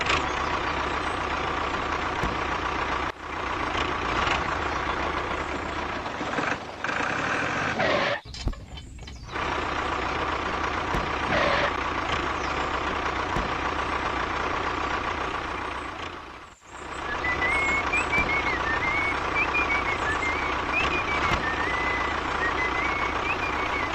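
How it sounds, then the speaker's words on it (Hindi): A DIY mini electric toy tractor drives with an electronic reversing beeper sounding steadily over a low motor hum, with a few brief dropouts and a faint warbling tone late on. "हल्क, तुम्हारा ट्रैक्टर लेके आ जाओ रे, थोड़ा काम है यहाँ पे।"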